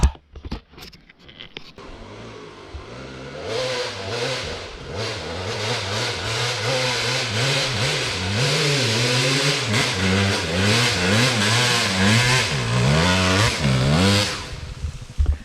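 An off-road vehicle on the Hatfield McCoy trails near Ashland Resort, West Virginia, revs its engine hard while its wheels spin without traction, the engine note rising and wavering in repeated surges, loud and close, after a few brief knocks at the start.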